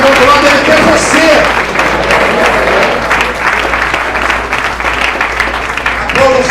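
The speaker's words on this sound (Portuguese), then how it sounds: "Pode aplaudir o Senhor." A church congregation claps together during a Sunday service, a dense, loud wash of applause with voices calling out over it throughout.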